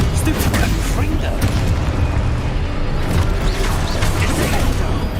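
The Confringo fire-blast spell in Hogwarts Legacy sets off loud bursts and booming blasts amid busy spell combat, with a voice talking over the action.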